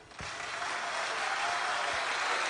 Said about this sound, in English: when I mention the name, I want you to clap with enthusiasm